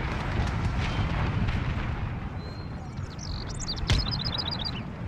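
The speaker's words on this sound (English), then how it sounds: "Infantry finally started firing." Infantry musket fire in the Empire Total War video game sounds as a dull, rumbling crackle of distant volleys, with a sharper shot near the end and game bird chirps above.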